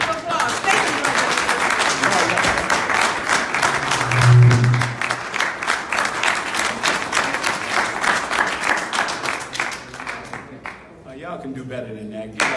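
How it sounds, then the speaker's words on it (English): A live audience gives a round of applause at a religious lecture, a dense wash of clapping and crowd noise running steadily for most of the stretch before thinning out near the end. "Let's give him a round of applause."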